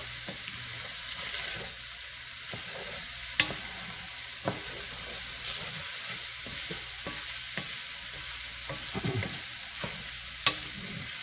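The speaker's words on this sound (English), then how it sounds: "you get to stand here and watch me stir" Chili being stirred in a pot, a spoon scraping and clinking against the sides in irregular strokes over a steady low sizzle, with a few sharper knocks standing out.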